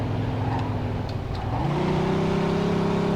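A car engine in Mafia 2 drives steadily and then revs up, rising in pitch as the car accelerates, loud and close with a constant drone throughout.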